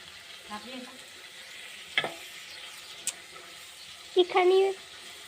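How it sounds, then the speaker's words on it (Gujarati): Whole green chillies are tempered in hot oil with a soft continuous sizzle. Brief clatters and stirring knocks come through it, ending in a louder burst of spluttering. Someone speaks intermittently over it. "હવે આખા મરચાં વઘારે, આખા મરચાં"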